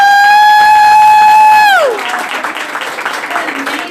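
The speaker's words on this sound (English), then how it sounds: "just give her a round of applause." A crowd at a Mary Kay sales event applauds and cheers for a sales director. A loud, sustained horn-like whoop opens, then gives way to a dense swell of clapping and crowd noise.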